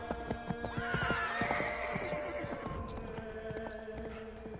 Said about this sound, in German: Das waren die Pferde.